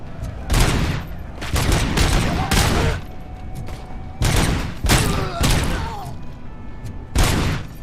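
Bursts of gunfire from the RoboCop: Rogue City video game, loud and close, come in about half a dozen separate volleys spread across the stretch, with ringing tones and fainter effects in the gaps between them.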